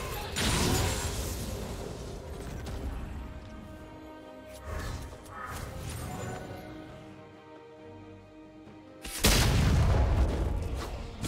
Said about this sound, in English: Team turret has been destroyed.